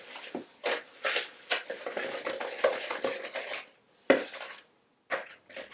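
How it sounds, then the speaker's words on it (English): Butter and sugar creamed in a bowl take each added egg as a utensil scrapes and clinks against the side in quick, irregular strokes, close and moderately loud, with brief pauses between bursts. "after each egg, just mix it into the butter and sugar mixture."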